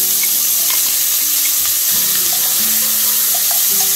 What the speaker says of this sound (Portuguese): A gente vai deixar o bacon ficar bem douradinho.